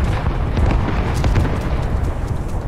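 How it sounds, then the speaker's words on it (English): Grenade blasts in a video game, a steady rumbling roar of overlapping explosions with scattered pops, loud and continuous with no talking. "Let me get rid of these grenades for a second."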